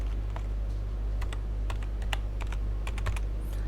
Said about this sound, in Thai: สามารถพิมพ์คำว่าเพชรบุรีลงไปแล้วเลือกได้เลยนะครับ